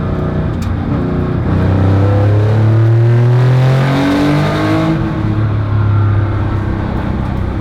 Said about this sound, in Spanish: El motor empuja una burrada.